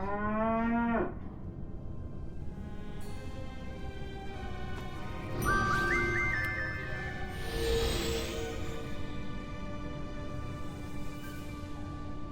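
A cartoon cow in the game Sam & Max: The Devil's Playhouse lets out a long, clear moo that rises and falls in pitch, over a quiet background with faint game tones and chimes.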